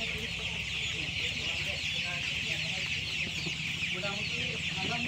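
One-month-old Tiger breed chicken chicks cheep and cluck continuously at a hatchery, a dense, steady chorus of many birds with no voices over it.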